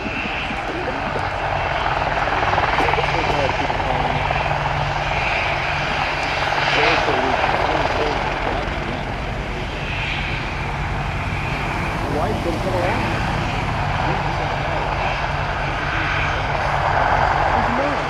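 An AH-64 Apache helicopter flies a demonstration at the 2009 Dayton airshow, its rotor and engine roar loud and continuous, swelling and fading slightly as it passes, while a commentator talks over the PA throughout.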